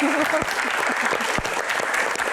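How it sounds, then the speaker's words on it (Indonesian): An audience claps at a Q&A stage event with a former badminton player turned politician, a loud continuous wash of applause filling the whole moment. "tepuk tangan dong"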